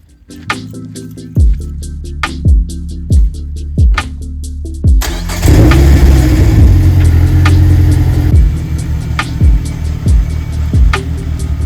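A Ford Ranger prerunner pickup truck engine cranks in a series of rhythmic starter turns, then catches and roars to life, settling into a loud, rough idle up close.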